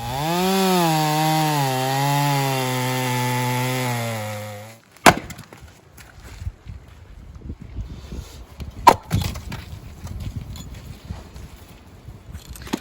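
A chainsaw with a troublesome blade works through gum, sugar gum and black wattle firewood, its engine droning loudly with a wavering pitch for several seconds before cutting out, followed by sharp wood cracks and scattered knocks of handling.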